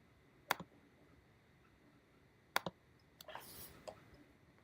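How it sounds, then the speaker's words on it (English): Two sharp computer mouse clicks, spaced about two seconds apart, each a crisp double tick close to the mic, followed by a brief soft rustle and a faint tick, in a quiet room with no talk. "I have to click on the screen"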